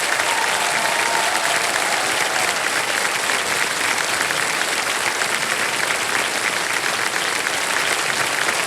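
Studio audience applause on a television quiz show, loud sustained clapping from a large crowd throughout.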